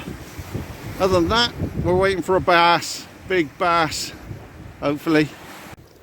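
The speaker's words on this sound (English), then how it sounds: "We're a bit in the wind" Gusty wind buffets the microphone by the water during a bass fishing outing, a steady low rumble running beneath someone talking throughout.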